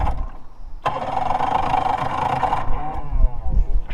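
Outboard boat engine cranking repeatedly without catching, a rough continuous churning whir that rises and falls over several seconds, close and fairly loud, with no one speaking.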